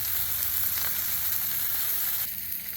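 Teriyaki chicken fries on a Blackstone griddle, giving a steady, loud, close sizzle that continues throughout with no talking.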